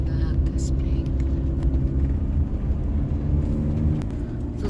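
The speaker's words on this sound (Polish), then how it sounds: "Jedziemy taką wąską ulicą między domkami." A camper van drives slowly along a narrow street between houses in Cadaqués on the Costa Brava, Spain, its steady engine rumble close and loud under someone talking.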